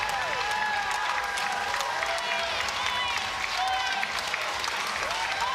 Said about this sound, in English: And a big roar from this appreciative crowd here.